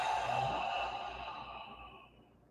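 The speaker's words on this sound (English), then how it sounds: "And exhale." A long, soft exhale during a guided breathing exercise in a morning movement session, a breathy whoosh that fades gradually over a couple of seconds, close and alone with no talking.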